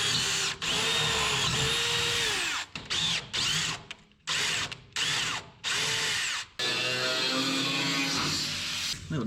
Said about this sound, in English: Little drill and tappy tap